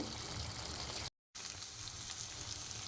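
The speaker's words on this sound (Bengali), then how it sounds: "এখন আমি এটাকে আরও দশ মিনিট কষিয়ে নেব একদম তেল বেরোনো পর্যন্ত" Dhaba-style chicken curry frying in oil, a close, crackling sizzle with a brief silent gap partway through, then the frying resumes.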